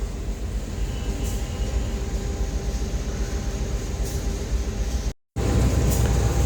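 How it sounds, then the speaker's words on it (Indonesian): Steady rumble and hiss fill the carriage of an early-morning Dhoho commuter train running between Blitar and Surabaya. The even roar carries on throughout, broken only by a brief dropout near the end, with no one speaking. "kondisi di dalam gerbong kereta komuter lain Doho"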